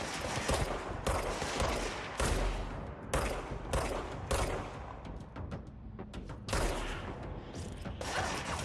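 Repeated bursts of gunfire from the video game Control, Ultimate Edition on PC, loud broadband volleys separated by brief pauses over a steady game soundscape.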